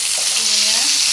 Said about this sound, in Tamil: அந்த பழைய சோத்துக்கு கடிச்சுக்கிறதுக்கு தான் இந்த வாழைக்காய் பொரியல் பண்ணுறேன்